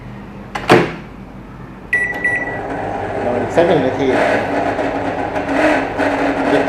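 A Samsung microwave oven hums as it runs, its faulty turntable motor droning loudly, with a beep, a clunk and someone speaking over the noise.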